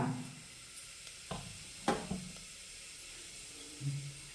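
Cumin seeds and whole spices dropped into hot oil, giving a faint, steady sizzle with a few soft clacks and stirring knocks of a utensil against the pan.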